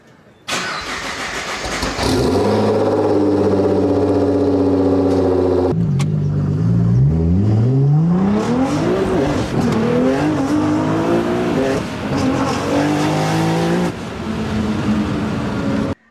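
A Nissan GT-R on a track roars hard through its gears, loud close engine rising in pitch with shift breaks and a sustained high-speed howl, no talking.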